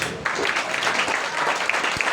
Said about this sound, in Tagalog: Pumalakpak tayo para sa Diyos.